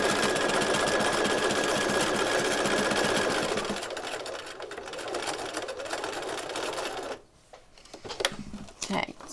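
A sewing machine stitches circles in a fast, dense, continuous mechanical whir for several seconds, then slows and stops, followed by softer handling clicks and rustles.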